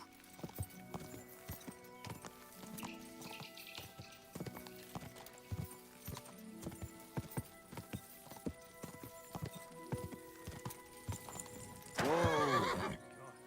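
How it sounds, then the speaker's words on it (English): In the video game Kingdom Come Deliverance 2, a horse's hooves clip-clop in an irregular, quick rhythm across the ground, punctuated by scattered thuds, before a loud, wavering neigh rings out near the end. "That looks like a bloody expensive horse."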